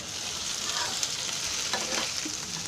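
Cabbage fries with dal in a pan, producing a continuous loud hiss and sizzle with faint stirring scrapes underneath.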